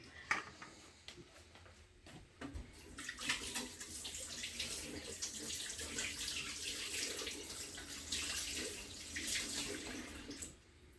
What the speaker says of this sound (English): So I am just going to wash my hands and then get started.